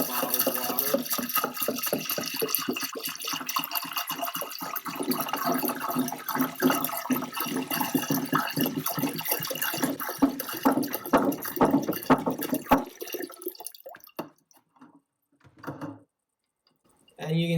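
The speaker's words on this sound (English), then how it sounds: "So I'll add water to the honey and mix it." Bottled water poured onto honey and stirred for a cold-brew mead, a close, busy sloshing and clattering of liquid and container that continues for about thirteen seconds before fading to sparse knocks, with speech alongside.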